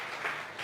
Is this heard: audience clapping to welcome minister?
yes